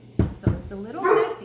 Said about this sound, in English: but that's my dog.